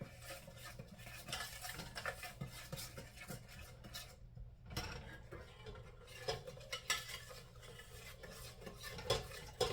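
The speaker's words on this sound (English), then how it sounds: "Give that a stir." A utensil stirs egg whites into a banana pudding mixture in a bowl, giving repeated soft scraping and clinking strokes against the dish, close and fairly quiet, with no talking.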